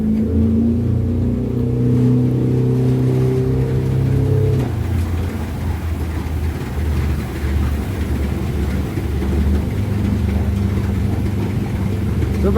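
A 2020 Stabi 2500 Ultra Cab boat's outboard motor runs steadily while the hull planes, a loud sustained engine drone with a shift in pitch partway through, close and continuous with no talk over it.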